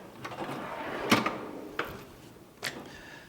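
Drawers of a home mechanic's Snap-on tool box sliding and clunking open, with several sharp metallic knocks and rattles spaced across a few seconds, close by and without talk.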